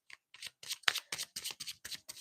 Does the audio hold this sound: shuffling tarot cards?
yes